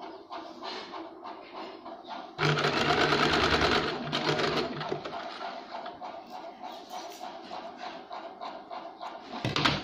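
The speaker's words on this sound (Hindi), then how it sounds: "ये देखिए, हमने इसे एक साइड से सिलाई लगा दी।" A sewing machine stitches along one side of a folded canvas strip for a sleeve design, its rapid mechanical whir surging loudly in bursts and easing off between runs, close and with no talk.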